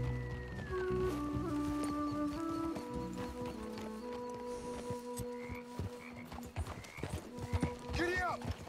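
Horse hooves clip-clop at a steady ride in Red Dead Redemption 2, running under game music, wildlife croaks and spoken voices throughout.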